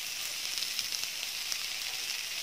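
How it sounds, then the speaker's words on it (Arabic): Steady, even sizzle of vegetables sautéing in a hot pan for a pea and meat stew, close and constant with no talking. "هشوح بقى كله مع بعضه"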